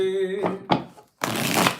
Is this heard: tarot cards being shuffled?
yes